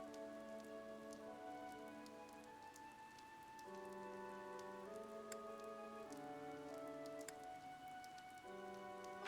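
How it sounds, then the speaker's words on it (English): Rain pours down steadily in the video game Fire Emblem Three Houses, a constant soft hiss beneath sustained musical tones, with no talking. "The rain is really coming down now."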